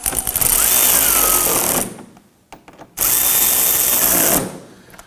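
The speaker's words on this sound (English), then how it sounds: "We're going to continue to tighten these down all the way up through the fender liner." A power drill runs in two loud sustained bursts with a brief pause between, driving fasteners into the front inner fender liner of a 2018-2024 Toyota Camry.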